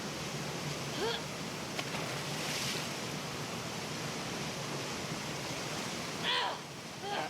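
Water ambience in The Last of Us Part 2: a steady wash of rushing water or surf fills the whole stretch at moderate level, with a couple of brief brighter splashes or calls near the start and end.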